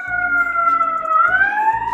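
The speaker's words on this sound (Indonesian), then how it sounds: "Seperti inilah New York, sering terdengar sirene." A police siren on a New York City street wails in a slow rising and falling tone, loud and close, with traffic rumbling underneath.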